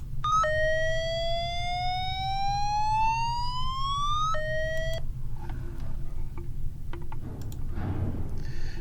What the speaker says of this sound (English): And this is the take shelter alarm.